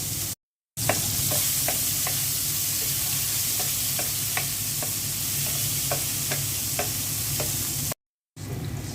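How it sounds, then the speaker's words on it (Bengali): Onions frying in oil left over from frying fish, a steady close sizzle with soft rhythmic stirring scrapes repeating through the pan, no voices. "মাছ ভাজা তেলের মধ্যে পেঁয়াজ দিয়ে দিলাম।"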